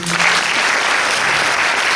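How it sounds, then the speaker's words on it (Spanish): An audience claps at a Paraguayan harp festival concert, a dense, loud wash of applause that holds steady for two seconds with no break. "Así que con el aplauso de todos ustedes,"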